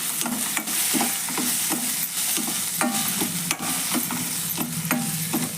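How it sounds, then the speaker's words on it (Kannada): Tomato masala with garam masala frying in a pan while a spoon stirs it, producing a continuous loud sizzle punctuated by regular scraping and clinking strokes, close and without talk. "ನೋಡ್ರಿ ಈಗ ಟೊಮೆಟೊನು ಸ್ವಲ್ಪ ಫ್ರೈ ಆಗ್ಯಾವು"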